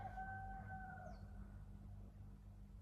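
In the afternoon a rooster crows once in the distance, a faint, short call heard over a low steady hum.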